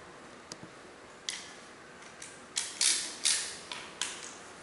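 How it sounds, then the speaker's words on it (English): Socket wrench ratcheting while tightening a bike chain tensioner: a series of about eight crisp clicks and short ratchet bursts, close and clear, with faint background hiss and no talking. "Here is where the socket wrench comes into play."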